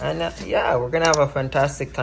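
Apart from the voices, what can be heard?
None of the usual background noises is heard.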